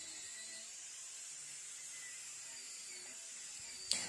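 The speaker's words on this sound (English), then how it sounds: "1930s paint meets nowadays wire wheel on an angle grinder, and it does not stand a chance" An angle grinder fitted with a wire wheel strips 1930s paint off an old pipe wrench, giving a steady, thin high-pitched whine that holds throughout and ends with a sharp scrape.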